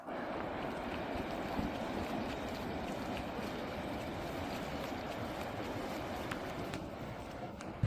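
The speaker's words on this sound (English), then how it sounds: "What a sound the waves make here in this lower area." Heavy ocean surf pounds the shore at Nazaré, Portugal, a dense, steady roar of breaking waves with wind buffeting the microphone throughout, no distinct individual crashes standing out.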